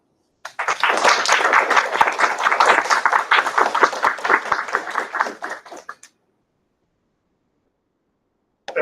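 Audience applause at a book launch in a lecture hall, a dense burst of many hands clapping for about five seconds before cutting off to silence.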